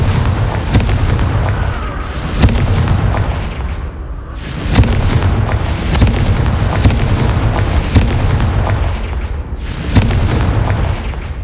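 Repeated booming blasts from the Confringo fire spell in Hogwarts Legacy, a PS5 video game, strike in quick succession, with loud explosive bursts every second or so over continuous rumbling combat noise.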